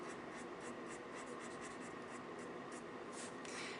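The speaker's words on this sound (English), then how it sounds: "we're adding in this Prismacolor pencil" Steady scratchy shading of a Prismacolor colored pencil on paper, close up, with repeated short strokes in a continuous rhythm.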